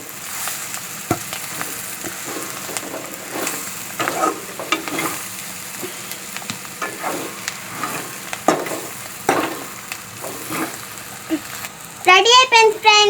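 Capsicum fry with chopped coriander stirred in a pan, a continuous sizzle with repeated spatula scrapes and knocks, a voice speaking over it at the very end.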